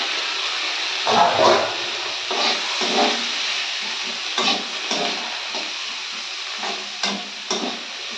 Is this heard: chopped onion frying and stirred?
yes